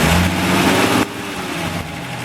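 A BMC B Series car engine revving hard, a loud close steady roar with harmonic tones that drops back after about a second to a lower, quieter run, with no talk.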